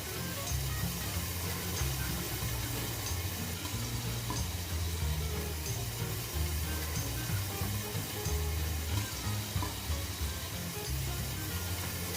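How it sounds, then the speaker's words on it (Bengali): Chicken pieces frying in oil in a pan give a steady, continuous sizzle with a faint watery crackle, level and close throughout, no voices. "এখন আমি তার মধ্যে যে চিকেনটা কেটে রেখেছিলাম সেই চিকেন দিয়ে ফ্রাই করে নিব"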